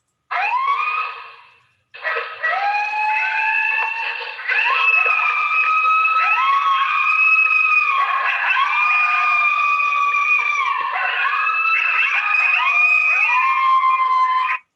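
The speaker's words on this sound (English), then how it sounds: "And that's groups howling together." A group of coyotes in Connecticut howls together, many overlapping wavering and rising voices forming a dense, siren-like chorus that runs loud and continuous for about fifteen seconds after a brief opening break.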